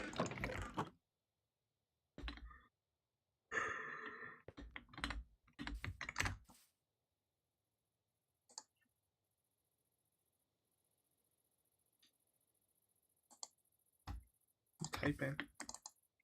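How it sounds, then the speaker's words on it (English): Close, crisp keystrokes on a computer keyboard come in several quick bursts separated by silent pauses, with some louder clusters near the end, while a player streams Minecraft. "Just freaking typing, okay?"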